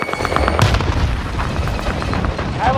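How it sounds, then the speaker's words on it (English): A frag grenade bursts in Call of Duty: Warzone with a loud, close boom, followed by a rumbling tail and scattered gunfire-like cracks over a little under three seconds. "Tossing a frag."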